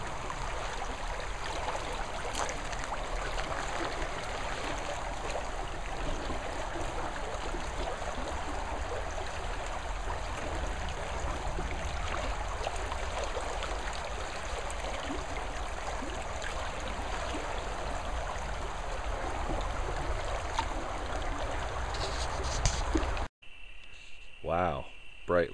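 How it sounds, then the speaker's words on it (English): A brook flows steadily at night in Auburn, California, its continuous watery rush joined by a thin, persistent chorus of crickets, all fairly close and even in level until it cuts off abruptly near the end. "Here's the brook."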